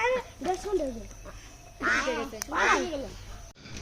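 Ducks quack in short, harsh bursts at close range, with clusters of calls coming in quick runs while people talk nearby.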